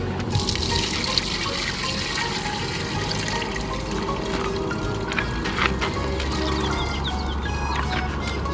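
Water rushes and splashes steadily out of a broken RV sewer line on a fifth-wheel trailer, a continuous loud gushing with scattered drips and spatters, close by and without talk.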